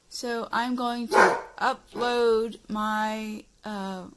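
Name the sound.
dog barking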